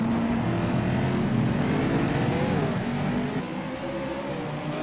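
Racing cars battle closely at Infineon Raceway, engines droning loud and steady with rising and falling pitch as several cars run together, the roar easing slightly toward the end.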